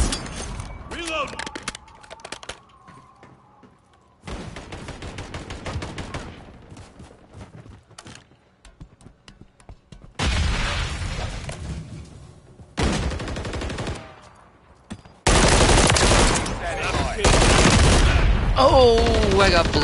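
Gunfire in Call of Duty Modern Warfare III Zombies, loud clustered bursts of automatic fire broken by quieter gaps, with dense fusillades toward the end. Voices talk over parts of it.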